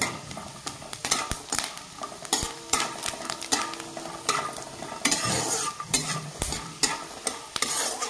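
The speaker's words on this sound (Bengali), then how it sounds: "তো বাদামটা লাল করে আমি সুন্দর করে ভেজে তুলে নেব।" Peanuts fry in a pan, stirred with a utensil that clacks and scrapes against the metal in irregular bursts over a continuous sizzle.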